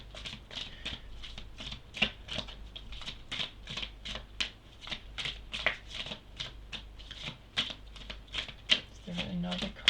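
Astrology cards being shuffled and drawn by hand, a long run of quick, rhythmic papery flicks and riffles, close and crisp, repeating steadily over a quiet background.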